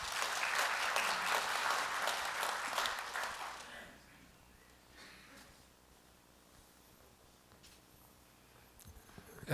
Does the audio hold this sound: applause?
yes